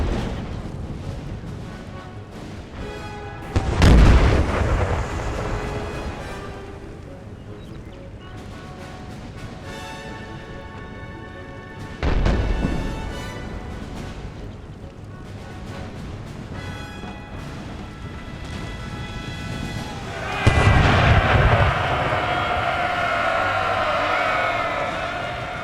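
Musket volleys in a Napoleon Total War American Civil War battle crack out in three separate heavy bursts spread several seconds apart, each a dense rolling crash over a steady battlefield rumble, with the last lingering as sustained firing.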